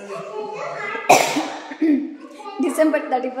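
A single sharp cough breaks out amid talking, followed by a smaller throat sound, close to the listener.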